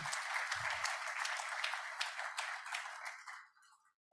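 A conference audience at an aesthetics summit on exosomes in Korea gives a dense round of applause that holds steady, then tapers off and fades out quickly.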